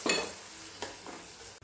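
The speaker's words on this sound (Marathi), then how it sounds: "हे पाणी आता यामध्ये घालायचं आहे" Water poured into frying masala with turmeric in a pan sets off a sharp burst of sizzling that settles into a steady hiss, with a few fainter stirring scrapes close up.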